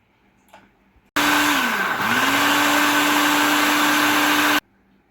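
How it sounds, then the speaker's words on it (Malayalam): A kitchen mixer grinder blends garlic cloves with water in a loud, steady whirring burst of about three seconds that briefly dips in pitch, then cuts off abruptly into near silence. "അതിലേക്ക് നമ്മൾ കുറച്ച് വെള്ളം കൂടി ചേർത്തിട്ട് മിക്സിയിൽ വെച്ച് അടിച്ചെടുക്കുക"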